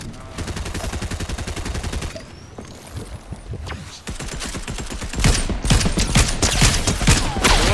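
Rapid bursts of automatic gunfire from a Fortnite firefight, loud and close with sustained rattling volleys, a brief lull midway, then heavier fire resuming; voices talk faintly underneath.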